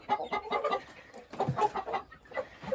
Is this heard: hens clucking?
yes